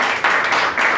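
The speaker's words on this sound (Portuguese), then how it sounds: "Que você venha dar uma salva de palmas." A church congregation claps in a brief, loud, close burst of hand clapping lasting about a second, with no talk over it.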